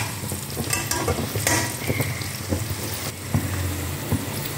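Potatoes and vegetables sauté in a pan for vegetable biryani, a steady close sizzle and frying hiss with repeated scraping stirs and spoon knocks throughout.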